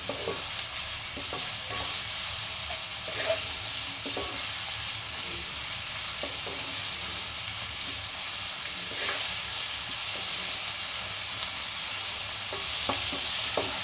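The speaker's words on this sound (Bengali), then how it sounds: "পেঁয়াজটা লাল করে ভেজে নিচ্ছ?" Chopped onion sizzling and frying in a hot pan over raised heat, a steady close crackle with occasional stirring scrapes throughout, no voices.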